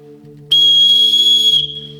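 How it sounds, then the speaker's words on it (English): A loud, piercing safety whistle built into a North Face Surge backpack shrieks in one sustained blast of about a second, cutting sharply over a quiet background hum. "It does have a whistle on it."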